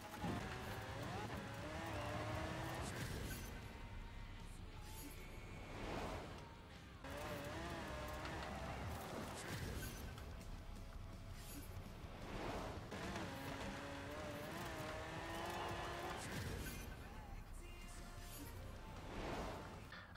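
Race cars in Forza Horizon 4 roar through a race, engine notes rising and falling in repeated sweeps over steady background music and game sound.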